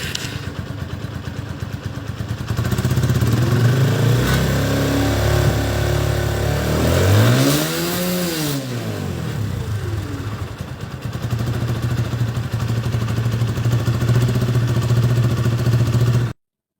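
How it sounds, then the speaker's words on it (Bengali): A used motorcycle engine runs at a steady idle, then revs up in a rising and falling sweep around the middle before settling back to a loud, close, continuous idle. "চলুন আপনাদের ইঞ্জিন সাউন্ডটা শোনাই বাইকের।"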